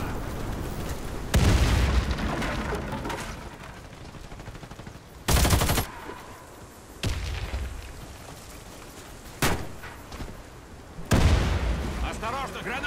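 A grenade bursts amid gunfire in the shooter Warface, with several loud, booming blasts spaced through the stretch and rattling shots and rumble continuing between them.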